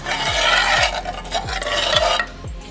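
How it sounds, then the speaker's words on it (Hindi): A spoon stirs a coffee-based liquid mixture for a no-bake cold dessert, making steady rhythmic scraping strokes against the bowl, about one every half second, close and fairly loud with no talking. "और इसे मिक्स कर लेंगे।"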